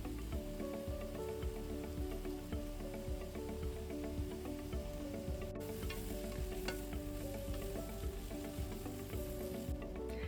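Ingredients for a meaty bean stew roast in a pan, producing a continuous, even sizzle and crackle with faint stirring scrapes, steady throughout and unaccompanied by speech.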